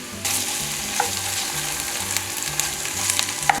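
Tomato paste fries in a pot, a dense steady sizzle with crackling pops and occasional stirring clicks, close and fairly loud, with a faint low background tone and no talk.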